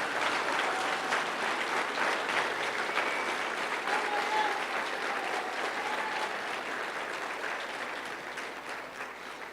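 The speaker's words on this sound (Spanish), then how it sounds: "Vamos a darle un fuerte aplauso al Señor" A congregation gives the Lord sustained applause at a church service, steady and loud from start to finish with a crowd's full clapping texture.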